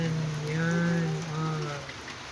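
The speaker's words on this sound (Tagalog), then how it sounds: "Hindi naman masyado malakas yung ulan." Light rain falls steadily and softly at a construction site, a faint even patter with a low hum underneath, and no talk over it.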